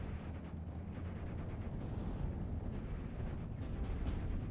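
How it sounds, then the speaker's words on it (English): Fuel explosion of a half-track in Steel Division: Normandy 44, a dense low rumbling blast amid distant battle noise with scattered pops and bursts, sustained and fairly quiet, no voices. "Fuel explosion."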